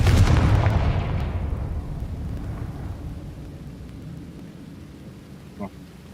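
A Confringo blast spell going off in a video game, a loud booming explosion that rolls away into a long fading rumble, followed by a small thud near the end.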